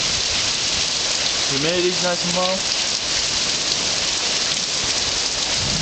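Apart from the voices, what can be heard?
rain with thunder outdoors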